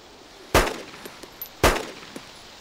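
Two sharp, loud gunshots sound in the Arma 2 DayZ game about a second apart, each with a short echoing tail, followed by a few fainter distant pops.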